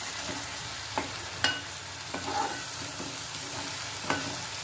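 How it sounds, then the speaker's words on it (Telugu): Coriander and chili paste fries in oil in a pan, a faint, steady sizzle with a few light stirring scrapes and taps throughout and no voices. "నీళ్ళు లేకుండా ఈ ఆయిల్లోనే వేయించుకోవాలి మనం"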